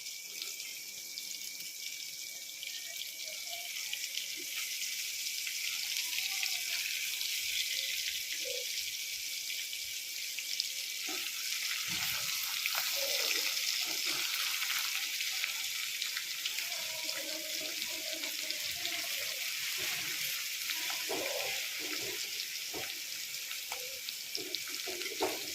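Fish frying in a pan, a steady hissing sizzle that runs unbroken for about 25 seconds with a few small pops and crackles, fairly faint and continuous, with no talking.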